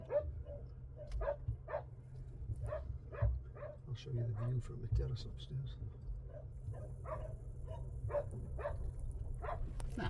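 Rescue dogs, including small Shih Tzus, bark in a string of sharp, moderately distant yaps throughout, mixing with someone speaking over a low steady hum.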